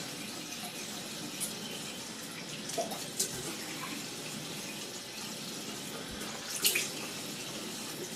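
Steady running water from a tap for rinsing the face during a shave, a soft continuous splashing hiss with a few brief louder splashes, close by and without talk.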